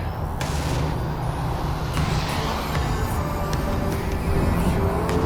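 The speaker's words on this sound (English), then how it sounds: "If I come off the throttle in that corner, it goes into snap oversteer." A T4 car cornering on a track, the driver easing off the throttle mid-corner; a steady, dense engine and road roar runs continuously with no clear rise or fall, loud and close throughout.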